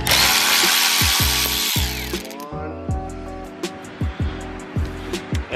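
Power tool whirring and ratcheting while removing a panel on a Ford Focus ST during a motor mount job, a steady loud drill run followed by short repeated bursts of spinning and clicking, close up.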